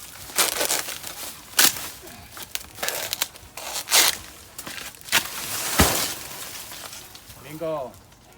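Stalk of a giant bird of paradise plant being cut beside a house, giving repeated sharp tearing, crunching snaps of fibrous plant material, loud and close, with brief pauses between cuts.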